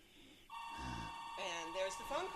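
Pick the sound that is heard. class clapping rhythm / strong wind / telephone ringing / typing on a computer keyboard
telephone ringing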